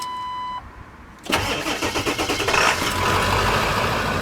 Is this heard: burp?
no